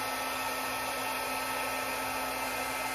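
A hair dryer blows steadily and loudly on a blob of acrylic paint during an acrylic pour blow-out, a constant close rushing whir with no pauses.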